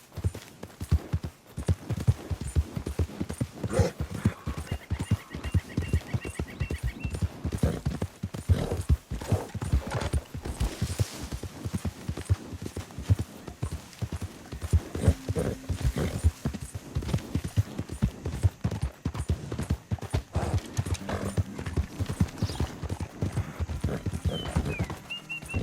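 A horse gallops in Red Dead Redemption 2, its hooves drumming in a steady, rapid rhythm throughout, with an occasional whinny and faint background hum.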